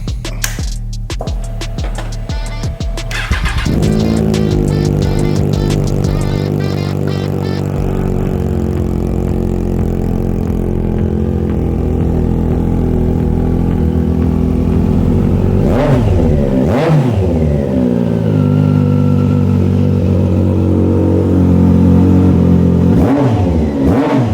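A Triumph Daytona 660 motorcycle with an SC Project aftermarket exhaust sputters to life, idles with a deep throaty burble, then revs sharply twice before settling back.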